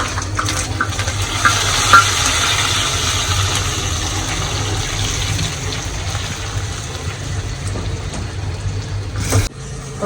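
Spice paste and cardamom sizzle and fry in a pan as a fish and taro curry is cooked, a steady dense crackle with stirring that runs close and continuous, briefly cutting out near the end.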